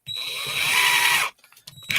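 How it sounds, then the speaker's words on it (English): A cheap name-brand cordless drill with a removable battery whirs up and runs steadily at high pitch for over a second, then cuts off, followed by brief clicks and a short restart. "This is the cheapest cordless bit drill you can buy of any kind of name brand that has a removable battery"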